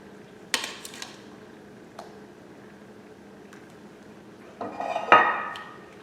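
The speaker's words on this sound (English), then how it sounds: "I'm gonna go ahead and take the roast out and plate my food" Dishes and utensils clink and knock while a pot roast is plated, with a sharp clatter early on and a louder cluster of clanks near the end over a quiet room.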